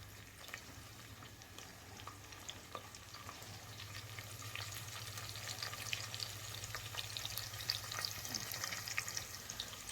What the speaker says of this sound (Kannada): ನೋಡಿರಿ ಈ ಥರ ಸ್ವಲ್ಪ ಗೋಲ್ಡನ್ ಕಲರ್ ಬರೋವರೆಗೂ ಸ್ವಲ್ಪ ಇದು ಫ್ರೈ ಮಾಡ್ಕೋಬೇಕ್ರಿ.